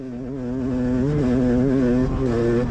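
An off-road motorcycle engine drones loud and steady as the bike drag races up a hill on a fast cross-country track, its pitch rising slightly and wavering as the rider shifts.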